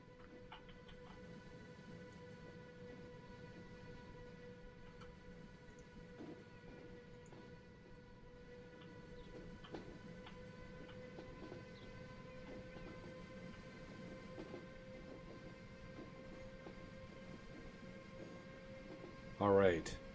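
An express passenger train in the Transport Fever railway simulation game rolls along with a faint, steady mechanical hum and sparse clicks, with a brief louder burst near the end.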